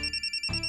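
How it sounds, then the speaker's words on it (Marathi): A mobile phone ringtone plays in a short burst of repeated electronic tones, alone and fairly faint, with a louder thump near the end. "महत्वाचा फोन येतोय ना तुला."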